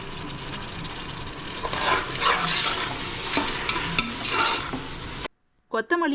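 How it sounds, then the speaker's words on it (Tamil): Tomatoes sautéing in a pan for chicken biryani: close sizzle with repeated scraping stirs that swell and fade, then the sound cuts out abruptly near the end before a brief burst returns. "தக்காளியும் சேர்த்துட்டு அதை நல்லா வதக்கி விட்டுக்கலாம்."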